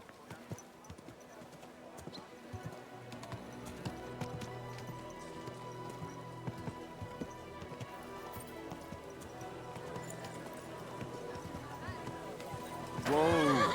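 A horse in the medieval game Kingdom Come: Deliverance II, with clip-clop hoofbeats and a possible whinny set against game music and ambience, under someone talking, louder near the end.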